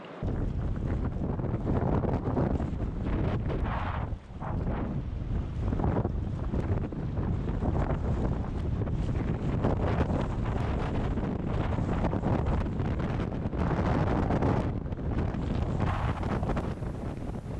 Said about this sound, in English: it was so windy that you had to paddle the air currents as much as the water